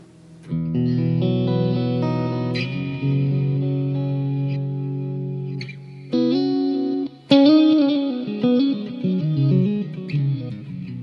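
An electric guitar plays sustained chords and single notes through a warm, slightly distorted amp, with echoing tails between phrases.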